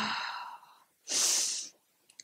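A slow breath in and out during a yoga flow, a soft airy exhale followed by a louder, breathy rushing breath, close and alone with no talking.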